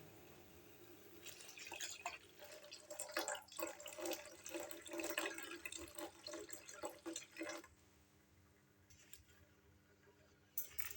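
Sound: milk being poured into cardamom ginger tea

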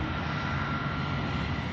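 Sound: supersonic aircraft engine

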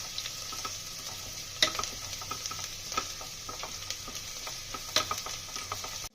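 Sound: onions frying and being stirred in a pan

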